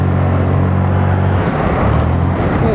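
Zontes 400G motorcycle accelerating: a loud, steady engine drone close to the rider, the pitch shifting midway as revs change, no talk over it.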